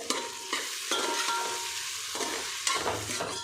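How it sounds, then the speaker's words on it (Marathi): Green chillies stirred in a frying pan for masala veg pulao, with steady sizzling and a few sharp spoon scrapes against the pan, close and alone. "त्यामध्ये घालणार आहे हिरवी मिरची ती पण व्यवस्थित हलवून घेऊया"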